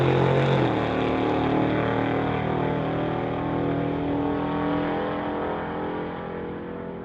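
A 1994 Mustang convertible drag racing a 1937 Chevrolet running a 502 engine: a loud, sustained engine roar fills the whole run, with a deep pitch shift early on as the cars launch and pull away.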